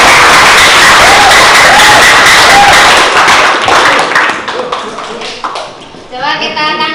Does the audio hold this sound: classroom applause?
yes